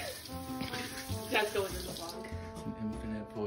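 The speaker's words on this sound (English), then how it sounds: "I need to wash my hands now because I touched my face." Tap water runs steadily into a sink as hands are washed, a close, continuous splashing stream with a few brief voices and movement sounds mixed in.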